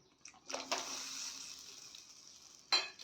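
A curry with drumsticks bubbles and hisses in a pot, a steady faint simmer punctuated by a few short clinks and scrapes of a utensil against the pot.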